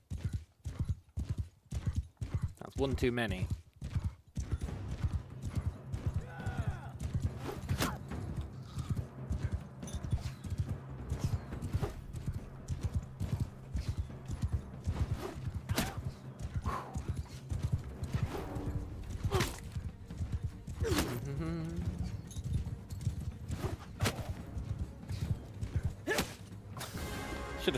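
Horse hooves clip-clop in Mount & Blade II: Bannerlord amid battle, steady galloping rhythms with occasional whinnies, creaks and sharp impacts, while a player talks briefly over it.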